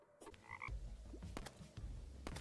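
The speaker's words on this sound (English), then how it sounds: "I just sit here and shoot frogs?" Frogs croak repeatedly in the Terraria Calamity Mod video game, loud rhythmic calls over a thick low game rumble with a few sharp clicks and a brief high tone.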